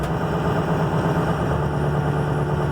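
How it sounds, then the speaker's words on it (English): A steady, loud diesel engine drones close by with a strong low hum on an International 4300 crew cab truck whose RPM is raised to get the alternator charging. There is no talk. "You raise the RPM, this seems to energize it, excite the alternators"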